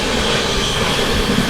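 Sanghamitra Superfast Express, running from SMVT Bengaluru towards Danapur, passes as a steady, loud, broadband rumble of rolling train noise that holds unbroken throughout, with no voices.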